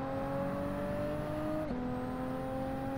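Alfa Romeo race car engine in Gran Turismo 7 holding a steady, droning tone that drops sharply in pitch partway through as it shifts gear, then carries on at a lower steady hum, with no talk.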